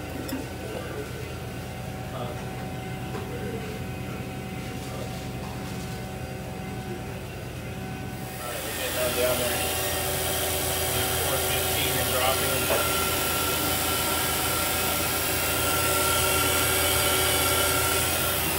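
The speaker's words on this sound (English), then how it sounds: "I love that vacuum pump." A vacuum pump runs steadily on an HVAC condensing unit during a unit changeout, a loud continuous mechanical drone that swells and stays broadband after a quieter start.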